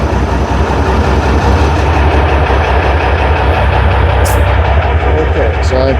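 Tractor engine running steadily to power the hydraulics of a Rhino 15-ft flex wing rotary cutter, a loud continuous low rumble filling the whole stretch with a brief higher hiss near the end.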